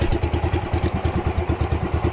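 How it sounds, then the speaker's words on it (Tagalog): A misfiring engine chugs close by with rapid, uneven thumping pulses and a rough, stumbling rhythm, loud and steady throughout. "Palyado pang makina natin."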